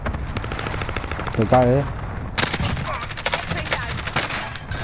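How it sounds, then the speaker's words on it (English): Rapid automatic gunfire from the video game Warzone rattles in bursts through most of the clip, loud and close, with voices talking over the shooting. "I'm taking fire!"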